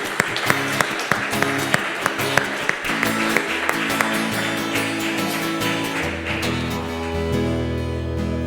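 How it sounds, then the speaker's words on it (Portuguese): A church congregation at a Thursday service applauds to welcome a visitor. The clapping is sustained and spread through the room, with sharper individual claps standing out and a dense crowd wash underneath. "vamos dar uma salva de palmas a Deus pelo nosso visitante hoje"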